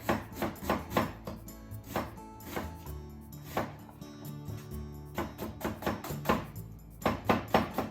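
A knife slices food for Japanese hamburger steak against a cutting board in quick bursts of close, thudding strokes with short pauses between runs.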